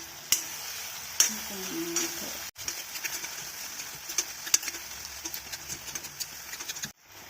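A spoon stirs ginger garlic paste, tomato and green chilli frying in a pan for a potato roast, with scattered clicks and scrapes over a faint, steady sizzle that cuts off near the end.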